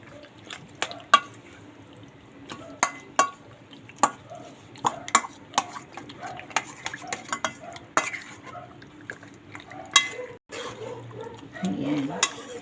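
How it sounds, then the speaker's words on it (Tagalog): Creamy garlic chicken is stirred and fried in a pan, with sharp scraping clinks of a utensil against the pan at an irregular pace and a soft sizzle beneath. Quiet voices come and go between the clinks. "Hahaluin na. Ipiprito namin yan mga 5 minutes"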